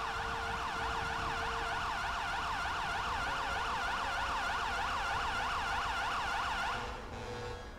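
Rescue service sirens cycle in a quick rising-falling wail, loud and unbroken for several seconds, then cut off abruptly near the end, leaving quieter background.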